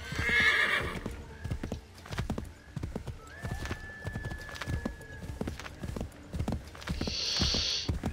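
In the video game Assassin's Creed III, a horse's hooves clip-clop in a fast, steady rhythm while it whinnies near the start and end, with a thin tone ringing midway.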